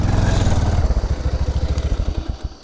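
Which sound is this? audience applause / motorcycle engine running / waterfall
motorcycle engine running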